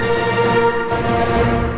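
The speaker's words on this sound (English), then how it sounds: "I love using Hollywood Winds the scales because those sound so cinematic" Hollywood Winds orchestral woodwind scale run, a dense sustained cinematic texture of layered reed and flute tones swelling loud and full for nearly two seconds without any voices.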